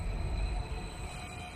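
A train in the video game Metropolis of Chronobreach, a low steady rumble with a faint whining tone above it, fading a little after the first half-second.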